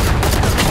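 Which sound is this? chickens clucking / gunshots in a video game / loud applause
gunshots in a video game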